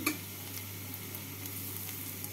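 Chopped onion frying in hot oil, a steady, close sizzle with faint stirring scrapes and a low constant hum beneath, no voices.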